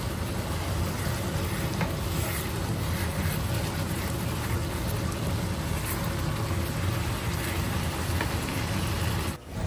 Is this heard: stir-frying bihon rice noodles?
yes